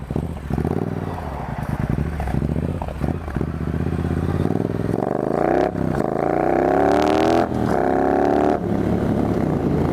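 A Triumph Bobber motorcycle fitted with a bigger rear sprocket accelerates hard, its engine note climbing steadily through the gears with a loud, close, continuous roar and some mechanical clatter.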